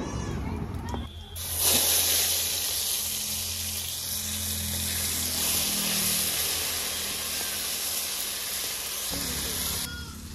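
Ground cumin paste dropped into hot tempering oil with bay leaf for a raw banana and puti fish curry, a sudden loud hissing sizzle that rises after a second and continues steadily before cutting off.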